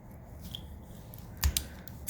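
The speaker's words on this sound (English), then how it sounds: "I'm gonna cut my straw into pieces." Scissors snipping a drinking straw into pieces for a lei craft, a couple of quick sharp clicks close by against a quiet background.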